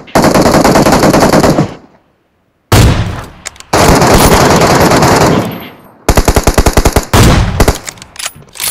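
Automatic weapon fire in the video game PUBG, with loud, close bursts of rapid gunshots separated by brief silences and a final string of distinct single shots.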